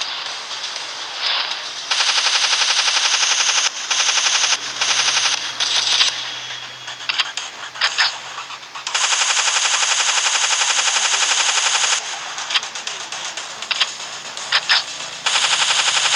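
Bursts of rapid machine gun fire against zombies in a video game, several sustained volleys separated by short gaps, loud and close with a faint low hum underneath.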